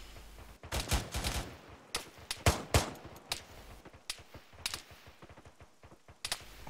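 Bursts of automatic gunfire and single shots from ArmA 3 combat, loud and close, crackling in rapid irregular volleys with short gaps, some shots sounding sharper and nearer than others.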